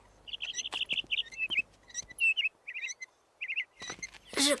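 A songbird sings a lively series of high chirps and warbling trills, close and clear, with brief pauses between phrases.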